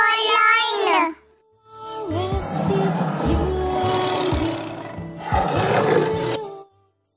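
A lion roars loudly and close in two long, rough bursts separated by a short pause, following a brief sung note, with no other voices over the roar.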